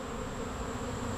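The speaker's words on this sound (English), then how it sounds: "There are bees on the ground" Honey bees buzz steadily and continuously around a beehive colony on a farm in early July, a dense droning hum filling the whole stretch with no voices.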